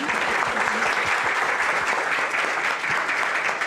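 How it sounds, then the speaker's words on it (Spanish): Audience applause at a talk about Argentine authors, a full, steady burst of many hands clapping at close range, with a few stronger individual claps standing out. "Aplaudo"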